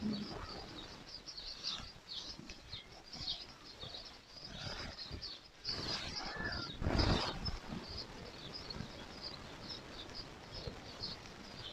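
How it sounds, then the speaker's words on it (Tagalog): Birds calling at a farm, a busy mix of chirps and coos with some pigeon- or dove-like sounds, moderately distant and fairly faint, with a louder burst near the middle. "Ang ingay ng mga ibon."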